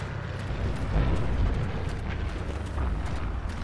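An artillery shot and explosion in Forgotten Hope 2, a World War II battle game, heard as a loud, rumbling roar that swells and lingers with continuous booming noise and no talk.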